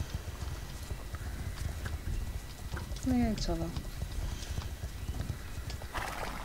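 Horse in the Star Stable video game: steady clip-clop of hooves with a clear neigh partway through, over background game music, while a person speaks briefly.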